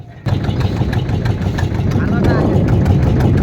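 A ship's engine running at speed, a loud, steady low rumble with continuous broadband roar that holds constant and swells slightly toward the end, with voices talking over it.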